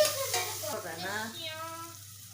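Chopped tomatoes go into a hot frying pan while making Tamil-style couscous, giving a soft close sizzle with stirring scrapes that slowly fades.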